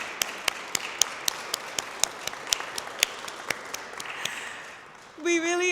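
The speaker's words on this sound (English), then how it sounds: "a round of applause for your team, please." Audience applause at a clinic's exam room dedication event: a handful of sharp, evenly spaced claps ring out in a steady rhythm, thinning toward the end before a voice begins speaking.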